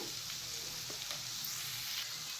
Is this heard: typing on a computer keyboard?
no